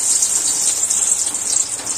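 Lentil fritters (dal bora) fry in hot oil in a kadai, a loud, dense, close sizzle crackling steadily without pause, no speech.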